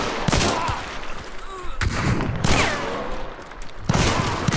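Repeated gunshots in Hunt: Showdown, several loud close bursts of firearm fire with short gaps between them and no speech.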